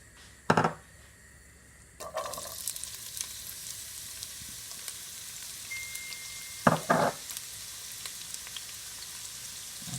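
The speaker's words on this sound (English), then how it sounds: "a little sesame oil, and I would be going in with my garlic and onions." Garlic and onions frying in vegetable and sesame oil in a pan for prawn fried rice give off a faint, steady sizzle, broken by a few sharp utensil scrapes and clinks.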